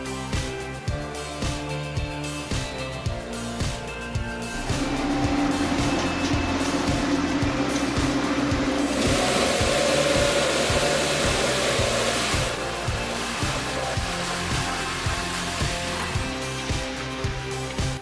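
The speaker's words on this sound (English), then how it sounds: "lifting the car and dropping it into the crusher" An industrial car crusher lifts a car and drops it into the crushing chamber, with a loud, steady mechanical roar and rhythmic clanking pulses running throughout, swelling into a denser grinding wash in the middle.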